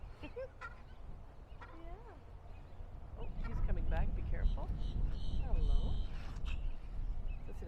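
Chickens mixed in with a kangaroo at a citrus farm give clucking and gobbling calls, some close and some scattered, while people talk over them.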